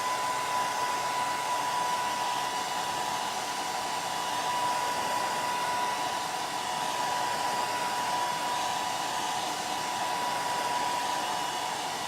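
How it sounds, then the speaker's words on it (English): A hair dryer runs steadily and loudly for the whole stretch, blowing to dry a chalk craft project, with a constant whirring hiss and a faint whine and no voices over it. "So now I'm going to dry it and go on to step 2."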